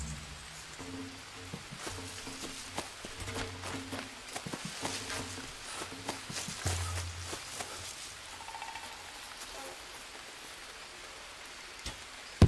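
Steady rain pours down in the jungle survival game Green Hell, a continuous soft patter running through the whole stretch with faint game tones beneath it and no voices.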